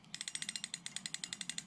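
A Shakespeare Sharky 3 fishing reel turns, giving a fast, even run of about twenty small clicks from its mechanism, close and fairly quiet, with nothing else heard.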